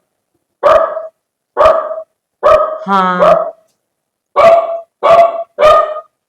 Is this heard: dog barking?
yes